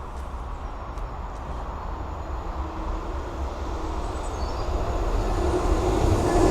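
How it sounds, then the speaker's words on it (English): A GBRF Class 66 diesel locomotive runs through a station on a freight service. Its rumbling, heavy roar is continuous and grows slightly louder toward the end. "Pass through now, half an hour early, will be a GBRF class 66"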